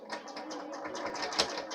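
A sewing machine runs steadily while stitching a straight seam along a fabric edge with a quarter-inch foot, its quiet even whirring forming a soft mechanical hum.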